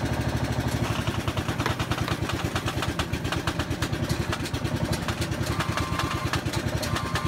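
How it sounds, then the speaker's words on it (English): A hydraulic foundation-lifting machine cranks continuously, making a loud, rhythmic engine clatter that runs unbroken throughout. "let's crank this machine and watch this lift."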